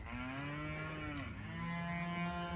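Cattle in a farm pen low out in long, drawn-out moos, several overlapping calls from a herd close by, with steady lowing through the whole stretch and no talk.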